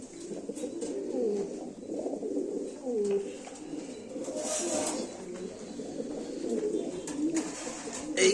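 American Fantail pigeons in a cage, including breeding pairs, give repeated soft low coos in an irregular rhythm, close by and moderately quiet, with faint background noise.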